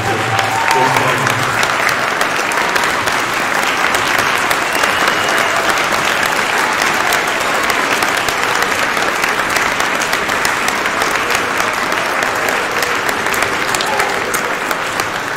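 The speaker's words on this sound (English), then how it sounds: "let's just give them a big round of applause" Sustained, loud applause from an audience at a middle school Veterans Day program, honoring standing veterans and guests, with cheering voices mixed into the steady clapping throughout.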